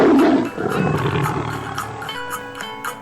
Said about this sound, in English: This is jaguar.